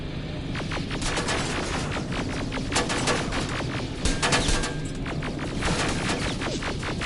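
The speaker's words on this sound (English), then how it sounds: "The turrets are actually taking out the T-800s." Automated turrets firing at T-800 machines in Terminator Resistance: a steady, dense rattle of rapid shots with a low throbbing hum underneath, continuous and moderately loud throughout.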